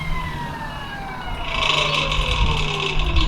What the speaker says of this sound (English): that rattling that you'll hear is these have no tension on them